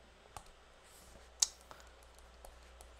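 Light typing on a computer keyboard: sparse, quiet key clicks with one sharper tap in the middle, heard alone in a quiet room.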